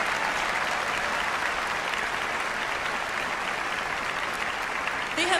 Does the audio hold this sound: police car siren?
no